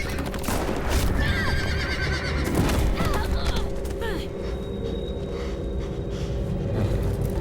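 Horse whinnying and hoofbeats in the Telltale Walking Dead video game, with sharp neighs early on over steady clip-clop, low rumbling booms and a burst of gunfire-like crackle in the background.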